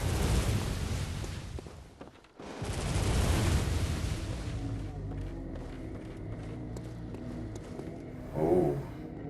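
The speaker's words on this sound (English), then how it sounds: "wait for the gunfire" Gunfire bursts and heavy rumbling explosions from the action game Bloodborne, loud and continuous for several seconds, then a quieter stretch with a short burst near the end.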